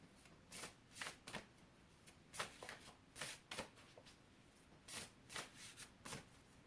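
Tarot cards being shuffled by hand, a series of quick, soft riffling bursts in irregular rhythm, close and quiet with no speech.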